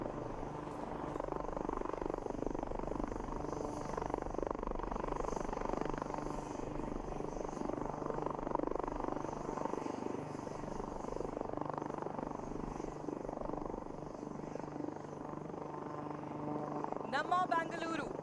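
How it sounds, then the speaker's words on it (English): Sarang team helicopters performing a flying display at the Aero India 2021 air show, giving a steady, loud rotor and engine drone throughout with a rising whine near the end. "After that scintillating display by the Sarang helicopter display team"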